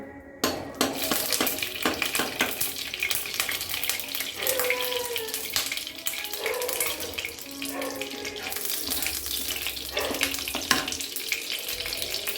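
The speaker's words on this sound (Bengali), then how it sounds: "এবং গোটা গরম মশলা দেব। অল্প একটু ঘি দিলাম।" Whole garam masala — cardamom, cinnamon, cloves, mace, nutmeg and a cracked black cardamom — frying in a little ghee for a rasgulla kalia, giving a steady close sizzle with scattered pops and clinks of stirring.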